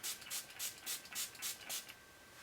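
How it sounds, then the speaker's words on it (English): A Squeezed Orange fragrance spray gives about seven short, hissing practice sprays in a quick, even rhythm, each one faint and close. "And now I'm doing Squeezed Orange. Get a couple practice sprays."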